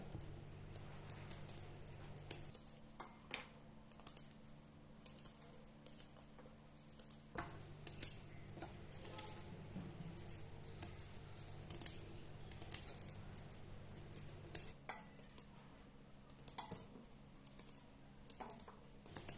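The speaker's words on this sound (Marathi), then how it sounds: "तर या खरशिंगच्या शेंगा आपण पातळ अशा कापून घेऊया" A knife thinly slices bitter, astringent kharshing pods, each cut landing as a sharp tap in an irregular run. The taps continue steadily at close range with no voices over them.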